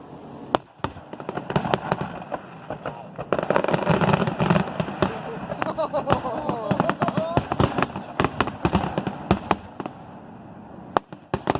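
Fireworks explode at a 2017 show in Bowman, North Dakota: sharp repeated bangs and crackling bursts, some distant and some loud, with a dense stretch of crackling in the middle and a crowd murmuring underneath.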